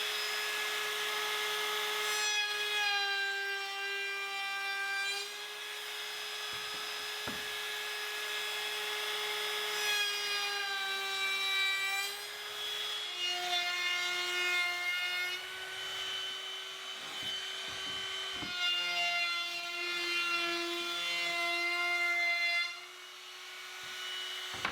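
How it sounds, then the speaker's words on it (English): A handheld router fitted with a roundover bit shapes the edges of wooden boards for an outdoor garden bench, giving a steady high whine with a few pitch shifts and brief cut-ins as it passes along the wood, alone and fairly loud throughout. "I'll use a roundover bit in the router to add a slight roundover at the top and bottom of each board."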